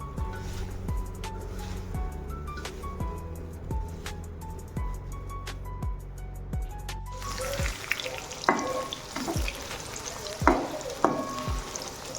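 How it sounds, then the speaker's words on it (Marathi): Coated soya chunks frying in oil: a low rhythmic mechanical hum fades out, then a bright hiss of frying takes over, with sharp scrapes and taps of a utensil against the pan, no voices. "आता ह्याला आपण छान तेलामध्ये तळून घ्यायचं आहे"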